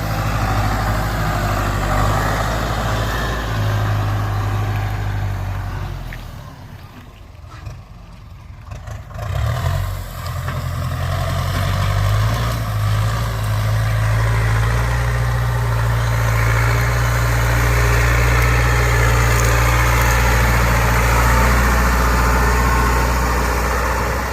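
A tractor engine rated at 86 horsepower idles steadily with a deep, constant rumble, briefly dipping and then resuming its low drone.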